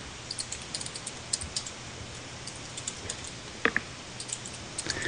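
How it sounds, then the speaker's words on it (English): Soft, scattered keystrokes on a computer keyboard while typing into a chat, faint and close, irregular taps over a steady background hiss, no talk. "I'm typing it into local chat."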